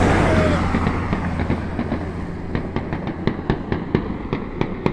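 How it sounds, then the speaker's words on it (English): Scattered New Year's fireworks in Port Pirie pop and crackle in quick, irregular bursts over a steady roaring background, the bangs growing more frequent and distinct toward the end. "I knew that was gonna be fireworks!"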